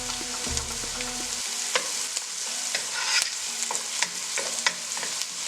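Diced onions frying with a spoonful of hot chili paste, stirred in a pan, a steady close sizzle with repeated spoon scrapes and taps.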